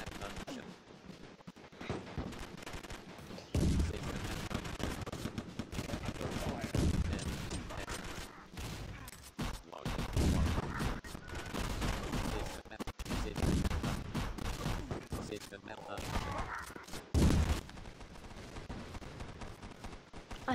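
Video game machine gun fire in a battle, with troops pushing toward an enemy base: dense, sustained bursts of gunfire rattle almost continuously for about twenty seconds, loud and close.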